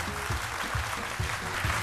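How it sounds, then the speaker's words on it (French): A studio audience applauds on a television talk show set, a steady close patter of many clapping hands filling the whole short stretch. "Nous allons la recevoir avec des applaudissements."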